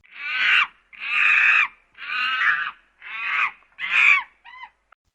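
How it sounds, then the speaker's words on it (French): Monkeys screaming and calling after finding fruit, five loud harsh shrieks in steady succession roughly a second apart, close and alone, ending in a couple of shorter squeaky notes. "certains singes manifestent même une forme d'enthousiasme en découvrant ces fruits, multipliant les cris et les gestes pour attirer leurs congénères"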